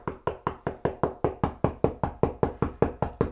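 Knuckles knock on drywall to locate a stud, a fast, even series of about seventeen sharp, close raps, each ending in a short hollow decay.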